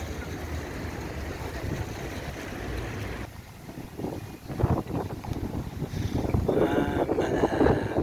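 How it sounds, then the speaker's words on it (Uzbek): Sea wind on the Greek coast buffets the microphone in loud, uneven gusts, dropping briefly midway before rising again, with a faint wash of water beneath. "Juda chiroyli shamol bo'lyapti."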